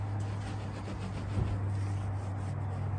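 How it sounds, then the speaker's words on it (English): Steady, close scrubbing of tire shine off the sidewall of a 35-inch KO2 tire on a 2022 Toyota Tundra, a continuous rough rubbing over a constant low background hum. "So you kind of have to scrub it, and it slowly starts to turn white right there."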